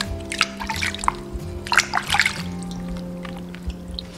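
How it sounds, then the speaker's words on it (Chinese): Bananas are rinsed by hand in a bowl of salted water, giving soft splashes and drips in a few irregular bursts over a low, steady background hum. "然后放入香蕉，仔细的把表面给它清洗干净"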